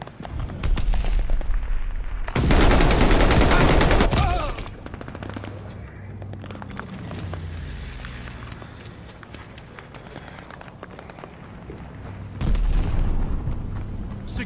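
A grenade blast and rapid gunfire from a Domination match in Call of Duty: Vanguard on the Gavutu map, with a loud dense burst of explosion and shots, followed by continuous battle rumble and scattered firing, then another loud swell near the end.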